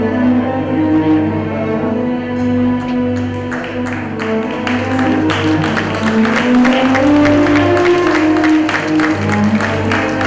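Applause from an audience at a Bengaluru philanthropy awards night, growing steadily over a loud background of music with sustained tones, continuing for about ten seconds.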